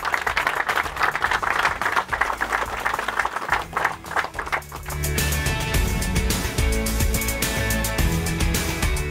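An audience at a fishing tournament awards ceremony applauds in a dense, sustained wash of clapping, with music or crowd noise swelling up in the second half.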